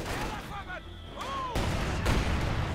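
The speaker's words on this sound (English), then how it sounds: "More heavy mortar fire, MG34 setting up here" Heavy mortar fire in the Company of Heroes 2 strategy game, a continuous low rumbling barrage with booming impacts under battle noise, mixed with whistling tones and faint game voices.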